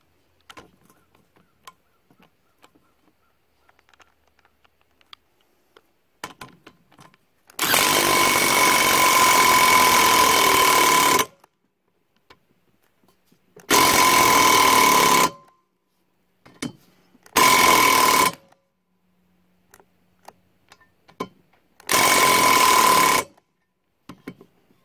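A power tool drives a rocker nut down onto a Vortec 350 cylinder head stud in four loud bursts of whirring, the first long and the rest shorter, separated by quiet gaps with faint clicks.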